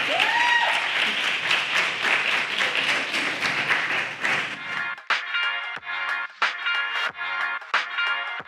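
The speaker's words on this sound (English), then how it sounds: "can we please give a round of applause to that man?" A live podcast audience breaks into loud, dense applause that thins into scattered individual claps and a few whoops near the end.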